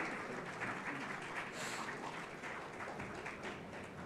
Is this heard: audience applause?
yes